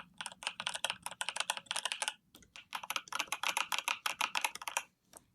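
Rapid, dense typing on a keyboard's middle keys, many quick keystrokes in bursts, a short pause partway through, then more fast clicking, close and clear.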